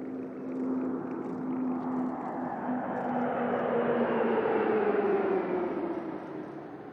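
A formation of military training aircraft flies past a reviewing stand at a fleet inauguration ceremony, giving a steady engine roar that builds and then fades slightly, with a droning tone that slowly falls in pitch.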